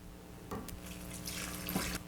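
Milk is poured into cake batter for a Victorian sponge in a faint, quiet trickle of liquid, broken by a few soft splashes and clinks.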